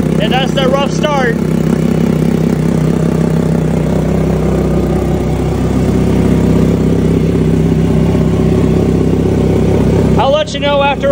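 Kawasaki ZX-4RR motorcycle on its second startup, idling smoothly and steadily up close, with a person talking briefly at the start and again near the end over the engine.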